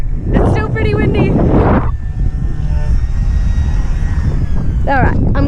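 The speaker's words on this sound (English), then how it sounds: "It's still pretty windy." Strong wind roars across an open boat deck in a steady, loud low rumble, buffeting the microphone throughout, with someone talking over it at the start and again near the end.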